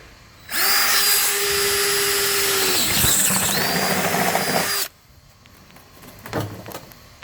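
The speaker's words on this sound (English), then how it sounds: "Got the holes cut with the sawzall" A loud reciprocating saw cuts a plastic drum, running continuously for about four seconds, its motor pitch steady with a brief dip, then cuts off, leaving quiet handling noises.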